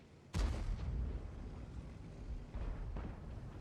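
A tank cannon shot from an enemy Bat-Chat 25t match in World of Tanks booms out as one loud low blast with a rumbling tail, followed by a second, softer thud near the end.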